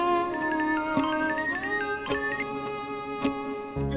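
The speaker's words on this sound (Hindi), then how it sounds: "रमेश भैया का फोन है।" A mobile phone ringtone plays a bright, steady melodic tune for about four seconds, clear and close with no voices over it.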